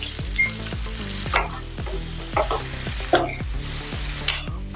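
Repeated scraping strokes of a spoon stirring a thick spiced eggplant dish (khara baingan) in a hot sizzling pan, roughly one stroke per second, close and clear.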